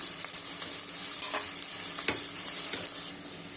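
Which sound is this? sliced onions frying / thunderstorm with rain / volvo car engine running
sliced onions frying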